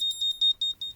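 A home-made Raspberry Pi Pico PIR motion alarm goes off with a rapid run of high, piercing beeps in short on-off pulses, about five in one second, close and clear.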